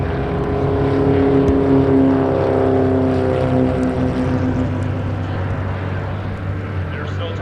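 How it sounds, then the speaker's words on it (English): Vintage race cars at the Rocky Mountain Vintage Racing 2020 event roar steadily around the track, a loud sustained engine drone with shifting pitch that stays constant throughout and appears to carry talking underneath. "Let's get back to some racing action"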